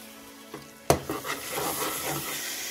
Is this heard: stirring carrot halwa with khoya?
yes